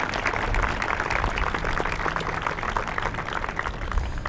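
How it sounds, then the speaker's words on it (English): An audience gives a round of applause for city leadership at a school partnership launch in Cedar Rapids; dense, steady clapping fills the full few seconds with no talk over it. "Let's give them a round of applause."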